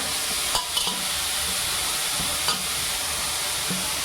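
Grated raw papaya for halwa fries and sizzles in ghee with a steady crackle, while a spoon stirs and scrapes the pan in a few distinct clinks and swishes.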